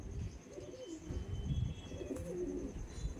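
Madrasi pigeons of the Andhra line coo in low, repeated rounded bursts at a steady, moderate level, with a busy loft murmur underneath.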